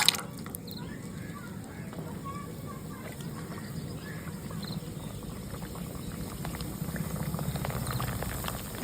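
Fuchka puris deep frying in a wok of hot oil, a steady bubbling hiss that continues unbroken and grows slightly louder toward the end, heard close with no talk.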